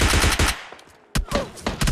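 A Bizon submachine gun fires in PUBG Lite, a rapid loud burst of shots, a brief pause, then two more short bursts in quick succession.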